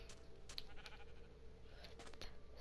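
A sheep in Minecraft bleats close and clear, with a couple of short calls standing out over a steady low background.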